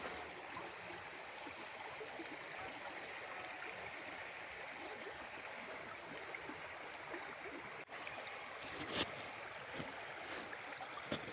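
A clear river flows steadily over rocks in a steady, broadband wash of water that stays close and even throughout, with no talking.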